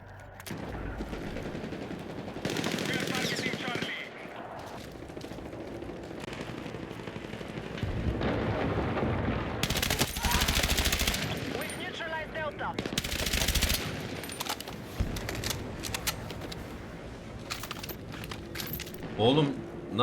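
Gunfire during a firefight in the video game Battlefield 6: repeated bursts of automatic weapon fire and loud shots come in waves across the clip, mixed with battlefield noise and a player talking over it.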